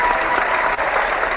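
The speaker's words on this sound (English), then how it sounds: "The clapping is good." A crowd applauds with steady, dense clapping that stays loud and continuous throughout, with no voices standing out.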